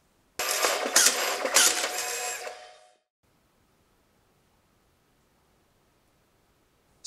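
A DNP DS PRO1 dye-sublimation photo printer runs a print, giving a dense, loud mechanical whir and rattle for about two and a half seconds. It then stops abruptly and near silence follows.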